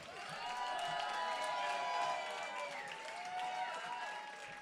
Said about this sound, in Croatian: molim vas, jedan veliki, veliki aplauz za istinsku legendu hrvatske jazz, blues i rock scene, Zdenku Kovačiček!